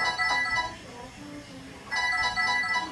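A telephone ringtone sounding in two bursts with a short gap between them, moderately loud indoors, with faint background talk.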